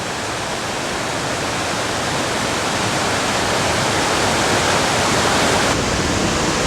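A brook spills over a series of three small waterfalls in a natural area in New Hampshire, giving a loud, continuous broadband rush of water from close by with no voices.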